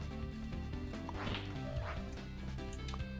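A dog barks sharply in the Death Road to Canada video game, a couple of quick barks among busy game sound effects and thumps.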